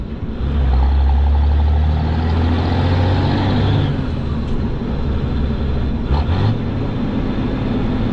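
A pickup truck hauling a hotshot load with an NV5600 manual transmission, its engine droning loud and steady under light throttle on the road, with broadband road and wind noise and a brief faint mechanical clunk near the end.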